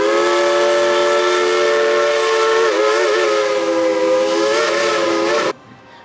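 Steam train whistle at Dollywood theme park, one long loud sustained chord-like blast lasting over five seconds, then cut off abruptly, with no talking.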